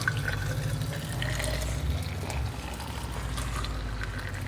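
Hot water pours into a Starbucks tumbler holding lemon, a steady close liquid rush with a low rumble underneath and faint dripping and splash ticks, continuous for a few seconds with no talking.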